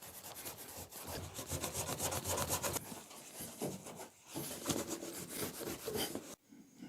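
Hand rubbing dirt off a dull, clear-coated spot on a Lexus LS400 body, steady rhythmic scrubbing strokes close to the surface, soft and dry with a brief pause near the middle.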